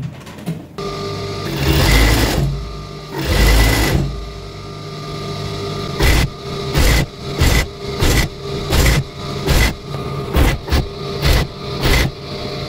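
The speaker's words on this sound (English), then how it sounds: "We'll take it to the cover stitch and finish it up." A cover stitch sewing machine hems a cotton men's boxer with an external elastic band, running in short bursts of loud whirring broken by brief pauses, after a stretch of rustling fabric handling.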